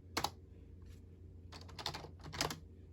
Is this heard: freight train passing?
no